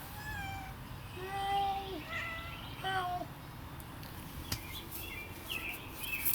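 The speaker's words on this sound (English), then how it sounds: "he's a big, fluffy gray cat." A big, fluffy gray cat meows several times in a row, drawn-out rising and falling calls heard close over a steady outdoor background hiss.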